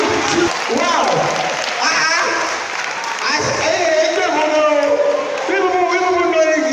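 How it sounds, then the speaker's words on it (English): Audience applause for a vocal performer at an event, a steady loud wash of clapping and crowd noise lasting throughout, with cheering and voices mixed in. "Please, a round of applause for her once again"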